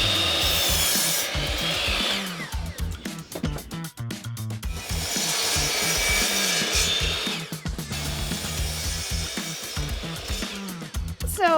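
A saw cuts through plywood on sawhorses during a room makeover, with loud continuous rasping cutting sounds that rise and fall through the cut, close and steady throughout.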